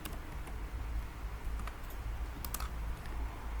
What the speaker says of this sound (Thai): พิมพ์ว่า Chat GPT นะคะ